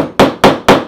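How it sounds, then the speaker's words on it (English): A hammer strikes a homemade rubber band instrument three times in quick, evenly spaced, sharp, loud taps, close up with no talking. "I'll hammer it a tiny bit, a little bit more"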